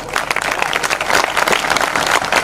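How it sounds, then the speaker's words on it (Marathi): An audience at a Marathi kirtan gives a burst of loud, dense applause for the women present, many hands clapping together close and steady without a break. "आमच्या या महिला वर्गासाठी एकदा टाळ्या वाजवा बरं तुम्ही सगळे"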